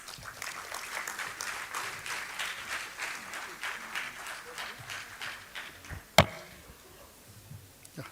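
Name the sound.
audience applause welcoming a speaker at a conference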